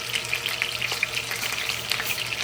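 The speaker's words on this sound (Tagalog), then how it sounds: "maingay na ito mga kababayan ay mainit na tubig" Water heating noisily in a pot on a home stove, giving a steady dense hiss and crackle with a low hum beneath, continuous and fairly close, no voices.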